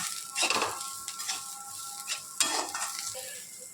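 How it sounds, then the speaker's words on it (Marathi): Chopped onion frying in a pan on a gas stove and stirred continuously, giving a soft sizzle with a few scraping sweeps and light metallic clinks, close and alone. "बारीक गॅसवर नीट भाजला जात नाही कांदा. आणि सतत हलवत राहायचं, म्हणजे करपणार देखील नाही."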